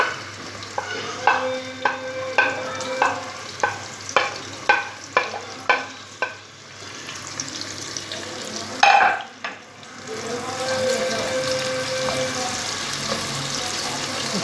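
Onions frying in oil for a khatte baingan dish, sizzling steadily under a run of rhythmic spoon taps against the pan, then a clatter and a louder continuous hiss.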